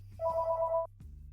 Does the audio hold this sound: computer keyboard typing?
no